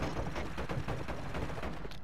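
Continuous rumbling artillery fire in a battle royale video game, dense and steady with a constant barrage of explosions throughout.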